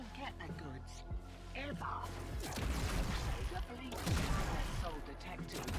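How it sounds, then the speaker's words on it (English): Festive Christmas fireworks going off in the Warframe video game, a dense stretch of crackling bursts and booming pops layered over game music, with someone talking over the noise throughout. "Christmas fireworks."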